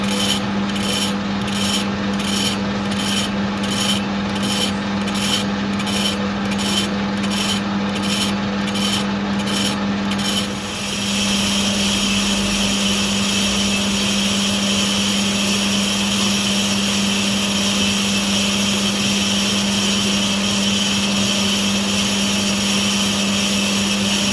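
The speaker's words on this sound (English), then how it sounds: "Then we put the boring bar back in to do this inside hole here. Also we slowed the lathe down a little bit." A lathe running at reduced speed bores an inside hole in a shaft with a boring bar, for a 4 1/2 inch Burrell build. A steady machine hum lies under rhythmic, pulsing scraping at first, then the cutting turns into a continuous rasp.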